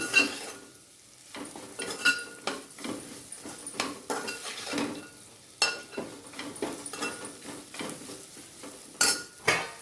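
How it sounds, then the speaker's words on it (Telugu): Vegetables with salt and turmeric are tossed and mixed in a pan, with repeated soft scraping and clinking strokes over a faint sizzle, close by and fairly quiet. "బాగా కలిపేసుకోవాలండి శుభ్రంగా మొత్తం ఉప్పు పసుపు అంతా పట్టేటట్టు కలిపేసుకోవాలి"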